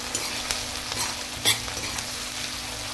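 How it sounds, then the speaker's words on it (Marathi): Tomatoes and whole spices fry in a pan with a steady sizzle, while a spoon stirs and scrapes through them in several short clicks and scuffs, close and without speech. "आता मी चांगलं मिक्स करून घेते"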